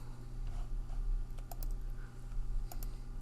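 A computer mouse gives several quick, light clicks close by, in small clusters over a low steady hum, with no talking.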